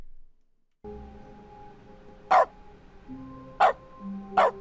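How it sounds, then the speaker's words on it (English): Three sharp synthetic dog barks in The Stanley Parable sound at roughly one-second intervals over a quiet hum of tonal game ambience, each bark short, loud and close. "Anytime you press the use button, which is in my case is left mouse button or E, it makes a barking noise"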